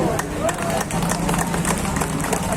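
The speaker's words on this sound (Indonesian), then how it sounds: "Tepuk tangan." Audience applause at a gathering, steady clapping with crowd murmur that continues at an even level throughout.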